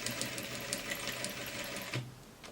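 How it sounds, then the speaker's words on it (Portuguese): A sewing machine runs slowly and steadily, stitching a coat seam around a curve; a continuous mechanical hum with rapid needle ticks, then a brief clunk near the end, heard close and alone. "Aqui é curva, então você costura um pouquinho mais"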